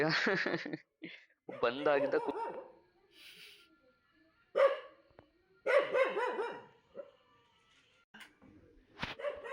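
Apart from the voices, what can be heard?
dog barking inside a house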